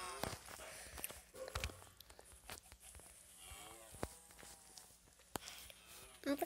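Cows in Minecraft low repeatedly in several separate moos, fairly faint, mixed with footsteps and small game sounds; no voices are heard in between.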